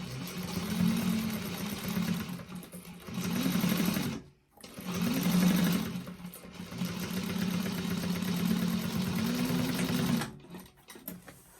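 A sewing machine stitches a seam on a Molly bag, a steady close whirring run with two brief pauses between bursts of stitching.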